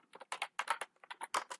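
Someone types on a computer keyboard in rapid uneven clusters of crisp clicks with brief gaps, close and clear, with no talking.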